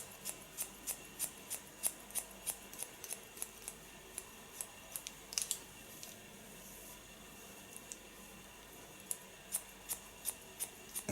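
Scissors snipping a woman's hair during an autumn-themed volume styling session, a steady run of quiet, crisp clicks at close range with no talk.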